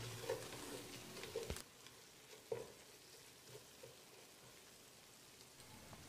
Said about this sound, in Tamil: ஒரு பத்து பதினஞ்சு செகண்ட் இதை பரட்டி விட்டுடலாம்